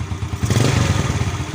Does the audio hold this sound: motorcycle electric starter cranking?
yes